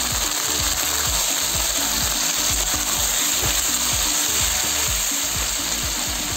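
Shrimp heads fry in oil in a pan with a steady, dense sizzle that stays loud and even throughout, carrying a low rhythmic rumble underneath.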